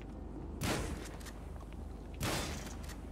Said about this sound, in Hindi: गाड़ी का टायर पंचर करूंगा मैं।